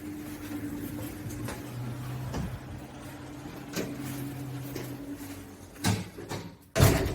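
An apartment building entrance door swings shut under a hydraulic door closer, with a low steady hum and faint clicks, then two sharper knocks as the door settles and latches near the end.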